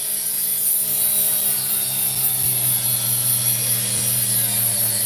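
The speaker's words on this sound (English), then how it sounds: "just try and grind this bit away" An opal is ground on a grinding wheel, a loud continuous high-pitched whine and rasp over a steady motor hum, with a few faint knocks.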